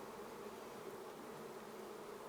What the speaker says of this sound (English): Got a few bees in here.